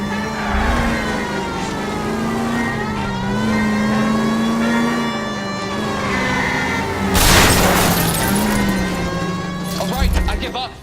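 Car engine revs hard and continuously during a police chase in L.A. Noire, its pitch sweeping up and down through gear changes, with a burst of crashing noise partway through and voices talking over it.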